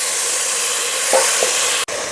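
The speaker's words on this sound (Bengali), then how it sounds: "ভাজা ভাজা করে নেব যাতে করে সেদ্ধও হয় আর ভাজাও হয়" A steady, loud sizzle of bata fish frying in a covered pan, with faint scraping sounds partway through.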